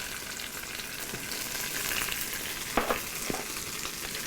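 Turkey breast sears in butter with coarsely chopped onions, thyme and a crushed garlic clove, a steady close sizzle with a few sharper spits and crackles as it turns.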